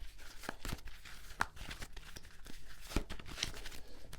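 A Tarot of Prague deck of cards being shuffled by hand, a series of soft crisp riffles and slaps spread irregularly over a few seconds, with no talking.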